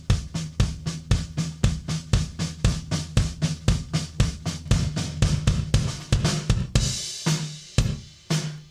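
A kick drum from a sound-alike track thumps in a steady, even pulse with reverb trailing each hit, about three beats a second, with other drum hits layered in before the pattern changes near the end.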